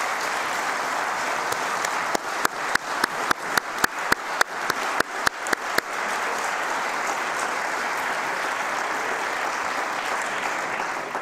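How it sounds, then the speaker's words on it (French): Audience at a council renewal session for the 2015-2020 term applauds warmly and steadily throughout, with a run of sharper, louder individual claps near the front partway through. "j'aimerais bien qu'on puisse les applaudir très chaleureusement"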